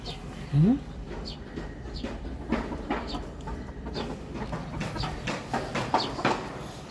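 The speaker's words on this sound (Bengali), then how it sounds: "ডিম যখন পারে তখন ডাকাডাকি করে" Hens on a rooftop cackling in repeated rising calls, mixed with other birds and background noise, with a voice speaking over part of it.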